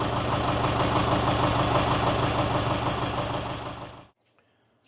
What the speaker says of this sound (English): I did hear the tractor bog down